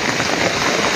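A brief burst of heavy rain hisses steadily on surfaces outdoors, close and even, with no voices.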